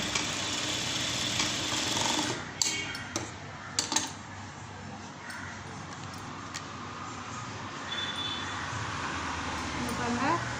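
A sewing machine stitches fabric with a run of mechanical whirring and sharp clicks, some louder ticks standing out, while a voice talks over it.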